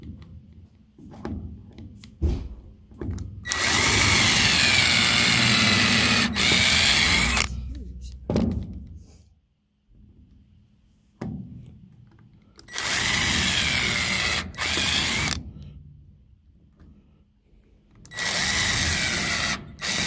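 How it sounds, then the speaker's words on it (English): A power drill pre-drilling marked holes in wood boards for a raised garden bed, three long whirring bursts separated by pauses, loud and close, with brief speech in the gaps. "I'm going to go ahead and pre-drill all of my marks."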